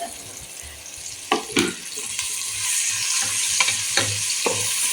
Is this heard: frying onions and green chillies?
yes